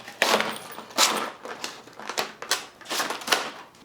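Brand-new Master padlocks being handled and worked open, giving a run of sharp metallic clicks and rattles in irregular bursts, close and fairly loud, with no talk.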